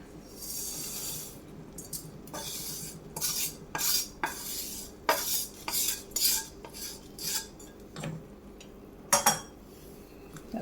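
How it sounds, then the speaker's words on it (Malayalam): A spoon stirs rice flakes into boiling milk for payasam, scraping and clinking against the metal pot in a series of irregular, close strokes with short pauses between them. "ഇളക്കി കൊടുക്കാം."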